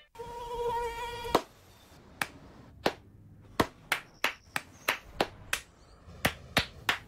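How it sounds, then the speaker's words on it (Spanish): In a radio ad, a close, thin mosquito whine is cut off by a sharp clap, followed by a run of roughly a dozen separate hand claps in an uneven rhythm. "No aplaudamos al mosquito, combatámoslo en serio."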